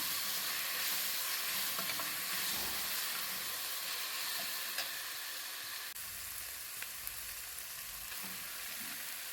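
Grated carrot and tomato fry steadily in a pan, giving a continuous broad sizzle with soft crackle and occasional faint stirring clicks, moderately loud and close, with no voices.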